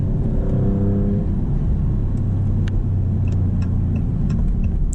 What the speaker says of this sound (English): Corsa mode would give us a more pronounced downshift there.